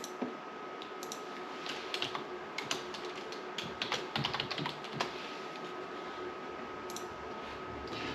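Steady typing on a computer keyboard: quick, light key clicks in irregular bursts with occasional sharper taps, heard close against a faint background hum.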